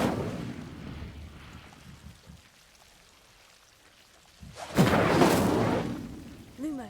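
A fire spell is cast in the video game Hogwarts Legacy: a sudden loud whooshing burst of flame that flares for about two seconds after a quiet stretch, with a rising magical shimmer at the end.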